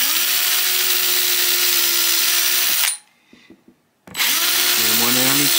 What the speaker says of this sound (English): So I just drill three holes here on the underside of the fretboard